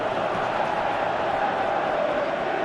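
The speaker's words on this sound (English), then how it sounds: "Crowd appreciates good football all round there." A stadium crowd cheers in the football video game PES 2017. It is a steady, even roar with a slightly distant feel, holding at the same level from start to finish.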